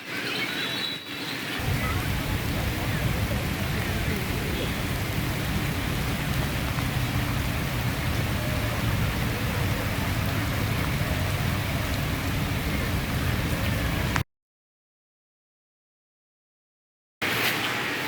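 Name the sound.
rain falling in India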